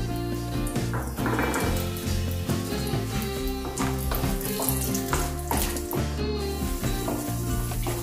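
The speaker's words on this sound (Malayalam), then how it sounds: "നെയ്യ് ഇവിടെ നന്നായിട്ട് ചൂടായി വന്നു കഴിയുമ്പോൾ നമുക്ക് ഇവിടെ എടുത്ത് വെച്ചിരിക്കുന്ന കാഷ്യൂ നട്ട്സ്" Cashew nuts sizzling in hot ghee in a pan while making ghee rice, a steady, loud frying hiss with crackling that runs throughout, with no talking.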